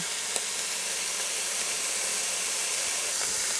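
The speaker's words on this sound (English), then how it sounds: "A quick sear of this beef" Beef tips searing in a hot pan give a steady, loud broadband sizzle and hiss that holds evenly throughout, with no talking.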